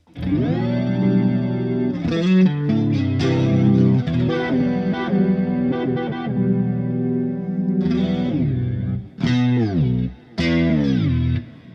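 Electric guitar, a new signature Kiesel, played through an effects preset with heavy distortion, chorus and echo: sustained ringing chords and bent notes, loud and close, with short gaps and re-attacks near the end.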